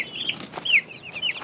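Chickens cluck in a farm pen shared with a duck, several short close calls in quick succession with nobody speaking.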